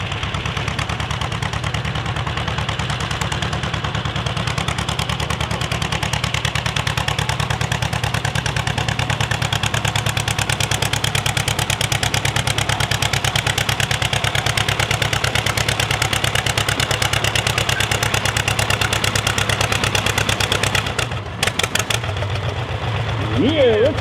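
Pulling tractor at a tractor pull show roaring steadily at high load, a loud continuous engine drone throughout, cutting off abruptly near the end.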